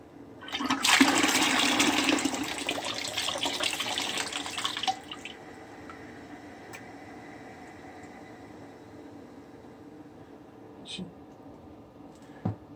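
Water rushes loudly into a McDonald-Miller 47-2 low water cutoff float chamber as it refills, a hissing gush for several seconds that then settles into a quieter trickle, with a couple of faint clicks near the end.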